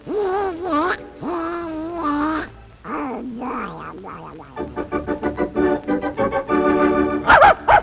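A cat's meowing imitated by a voice or toy kazoo on a children's Thanksgiving show: a few drawn-out wavering meows, then a rapid run of short pulsing notes ending in a sharp high squeal, loud and close.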